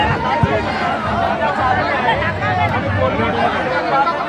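A large crowd of party workers chatters outside the Worli Dome in Mumbai, a steady babble of many overlapping voices with no single speaker standing out.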